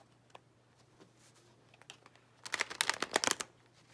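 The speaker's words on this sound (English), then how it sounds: "To start, shuffle both decks together." Two decks of cards are shuffled together: faint scattered ticks give way to a dense, brisk burst of riffling flutter near the end, close and quiet with no talk.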